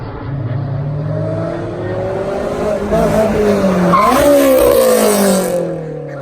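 A Honda S2000 fitted with an Invidia test pipe drives past loudly, its engine rising and dropping in pitch as it revs, with a screech of tires near the peak of the pass.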